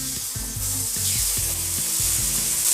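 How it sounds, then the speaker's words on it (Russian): Chicken breast marinated in olive oil with salt and black pepper sizzles steadily on a hot grill, a continuous hiss with soft knocks and scraping in the foreground, no talking. "Мой гриль горячий. Давайте курочку пожарим."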